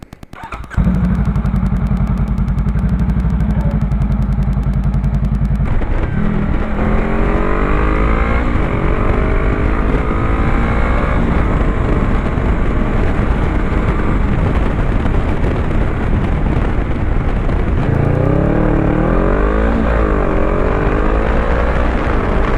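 Motorcycle starting from a low idle, then accelerating hard up a highway entrance ramp, its engine note rising through several gear changes before easing back, loud and close with wind roar underneath and no talking.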